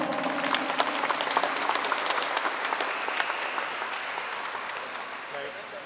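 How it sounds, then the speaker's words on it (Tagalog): Wedding guests in a church applaud the newly married couple, a steady, full round of clapping from the crowd that holds evenly and eases slightly toward the end. "Paliyang palakpak."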